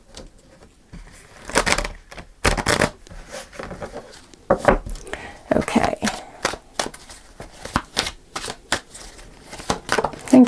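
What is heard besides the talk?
shuffling tarot cards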